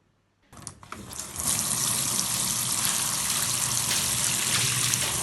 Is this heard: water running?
yes